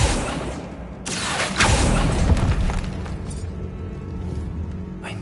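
A Bombarda blasting spell in the video game Hogwarts Legacy sets off a loud boom, and a rumbling, crackling burst of debris follows and fades into quieter scattered noise.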